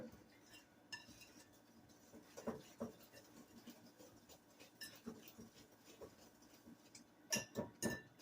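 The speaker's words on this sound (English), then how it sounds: "Make sure that all your spices are well stirred." A spoon stirring spices in a bowl: quiet, intermittent scraping and light clinks against the bowl, with a cluster of sharper taps near the end.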